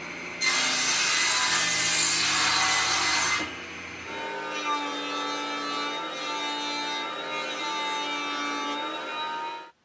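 Planed wood pieces are cut to length with a power saw in a home workshop while a bed is being built, first as a loud whining cut, then as a steadier, quieter run of blade noise until the saw winds down.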